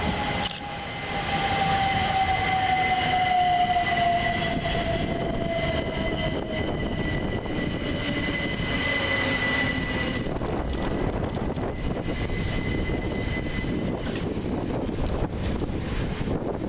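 An electric passenger train of Class 377 units arrives at Hassocks station with a steady rumble and a long falling whine, under constant wind buffeting the microphone, throughout.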